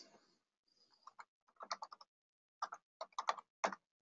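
Keys clatter on a computer keyboard as a policy name is typed, quick bursts of close, crisp clicks in short irregular clusters separated by brief pauses, with a near-silent background.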